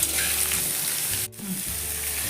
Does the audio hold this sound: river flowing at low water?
no